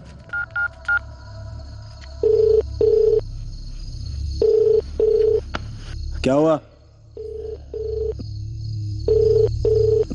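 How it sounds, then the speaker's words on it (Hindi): A telephone call goes unanswered: quick dialing beeps are followed by a repeating ringback tone in evenly spaced double pulses that carries on over a low background hum, and a voice briefly cuts in. "मनोहर को फोन लगा जल्दी।"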